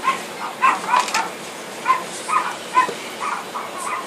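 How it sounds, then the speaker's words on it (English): Dogs bark in quick, repeated bursts at a moderate distance, yapping and yipping several times over a few seconds with short gaps between volleys. "I don't know if y'all can hear my dogs"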